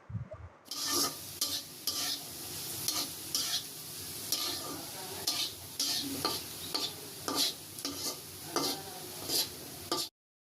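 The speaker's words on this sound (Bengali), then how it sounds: "রঙের জন্য হলুদ গুঁড়া আর সিদ্ধ হওয়ার জন্য সামান্য একটু লবণ দিয়ে আলুগুলো লাল লাল করে ভেজে তুলে নেব" Potatoes with turmeric powder and a little salt frying in a pan, a steady close sizzle broken by regular scraping stirs of a spatula, with no talking.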